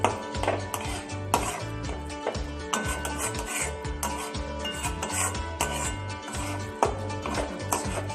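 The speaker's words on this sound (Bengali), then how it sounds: "এবার আমি ভালো করে এটা নেড়ে ছেড়ে নেবো" Cabbage and potato curry gets stirred in a pan, a spatula scraping and knocking against the metal in a quick repeated rhythm, close and moderately loud over a faint sizzle, with no talking.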